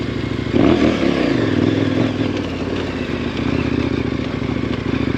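An enduro motorcycle skids around a tree on dirt, its engine droning steadily close by while a burst of scraping and clattering rises and fades in the first couple of seconds.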